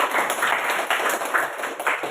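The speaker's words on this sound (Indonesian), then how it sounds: "Berikan tepuk tangan untuk kita semua." A room full of people at a teacher-training classroom session claps steadily for a couple of seconds, a dense, continuous patter of hands close by.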